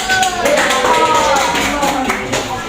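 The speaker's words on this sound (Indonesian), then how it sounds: "Tepuk tangan dulu" Junior high school class clapping hands in a classroom, loud and close, a rapid continuous patter of many claps with voices mixed in.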